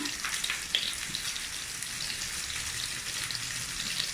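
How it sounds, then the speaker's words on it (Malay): Onions sautéing in a pan for tomato rice, a steady close sizzle with a crackling, rain-like hiss throughout, no talk. "tumis biar bawangnya layu"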